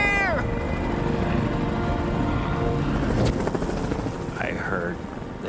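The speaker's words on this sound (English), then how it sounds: "I heard the helicopters come back." Helicopters fly close overhead with a loud, continuous rotor thrum and engine roar, joined by a brief whistling tone and faint voices in the background.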